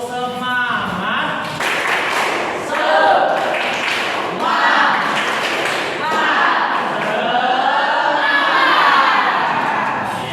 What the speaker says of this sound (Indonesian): sebelum kita belajar, tepuk semangat dulu